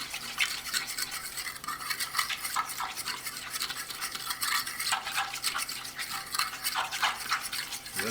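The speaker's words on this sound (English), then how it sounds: "You've got to mix it pretty vigorously, and you don't want any of these separations." Caesar salad dressing whisked vigorously in a bowl at a restaurant tableside, a steady, continuous scraping and clicking rhythm of whisk against the bowl, close and fairly loud, with no voices.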